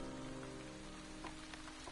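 Steady, dense rain pours down in a swamp area of the video game Wytchwood, mixed with soft background music and holding an even level throughout with no talking.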